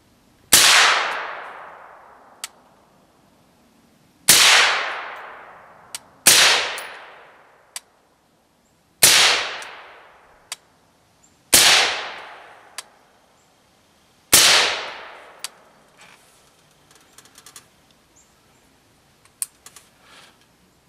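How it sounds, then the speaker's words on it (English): Six sharp gunshots are fired at rubber dummy targets outdoors, each a loud crack with a ringing decay, spaced a couple of seconds apart, followed by faint scattered clicks and handling noises. "We're already here, let's shoot a few more."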